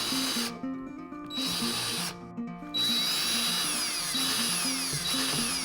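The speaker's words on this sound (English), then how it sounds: "I'm going to counterbore that with a countersink anyway" A power drill countersinking screw holes in a wooden guitar fret holder, a steady close whine with rising pitch and two short pauses, running alone.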